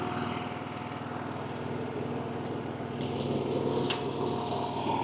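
A Harbor Freight Predator 11,500-watt generator running on propane, a steady even engine drone with a low rhythmic pulse, close by and moderately loud, with no talk.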